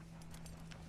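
Horse hooves in Red Dead Redemption 2, a brief, muffled clip-clop of a few hoof strikes over a low steady hum.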